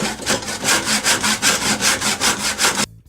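A saw cuts wood into rungs for a wooden hand ladder. About a dozen loud, rhythmic rasping strokes come in quick even succession, close and alone, then stop abruptly.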